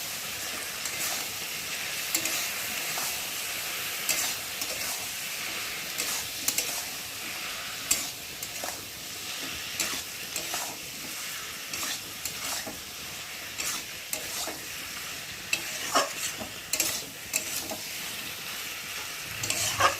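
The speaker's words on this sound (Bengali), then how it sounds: "জিরের গুঁড়ো এটা দেবো আদা বাটা আর পেঁয়াজ বাটা আর দেবো একটা টমেটো দিয়ে ভালো করে কষিয়ে নেবো" Cumin, ginger paste, onion paste and tomato sautéing in a pan for fish curry give a continuous close sizzle, broken by frequent clicks and scrapes of stirring, with no talking.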